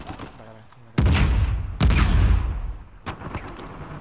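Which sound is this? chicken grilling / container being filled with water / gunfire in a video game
gunfire in a video game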